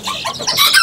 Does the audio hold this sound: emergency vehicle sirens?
no